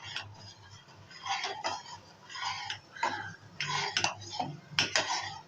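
A spoon stirring custard into cooked milk in a pot for fruit custard: repeated scraping and clinking strokes in an irregular rhythm, close and moderately loud, with no talk.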